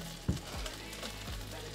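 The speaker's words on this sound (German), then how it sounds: "Und dann rühren wir das Ganze schon mal so ein bisschen um. Wird das Ganze so ein bisschen angeschwitzt hier" Savoy cabbage and chopped onion cooking gently in butter in a pot, with a few sharp scraping stirs of a spoon against the pot over a low, quiet sizzle.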